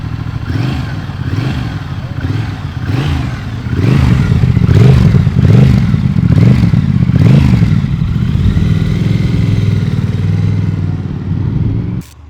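A Triumph Thruxton TFC motorcycle with a free-flowing exhaust revs close by in a series of sharp, rhythmic throttle blips, then holds a loud, steady, throaty rev before cutting off.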